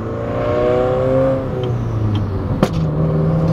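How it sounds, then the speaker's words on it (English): A 2016 Subaru WRX with an FA engine and pop tune drives in second gear, its engine droning loudly as revs fall, with one sharp exhaust pop cracking near the end. "There was a pop there, I didn't even mean to."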